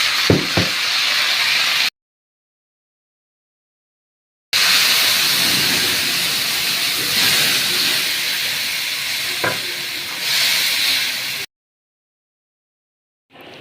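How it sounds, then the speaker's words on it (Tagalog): Steady broadband hissing and bubbling of a pot of lomi soup at a rolling boil, close up, broken by a few abrupt gaps of silence, with no talking. "kumukulo na siya"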